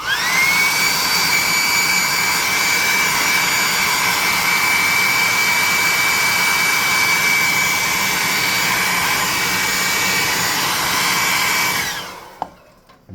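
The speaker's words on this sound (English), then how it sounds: "Let's hit him with the +2 hot air gun of burning." Hot air gun blowing continuously at close range, a loud steady whooshing roar with a high whine that holds for about twelve seconds and then cuts off.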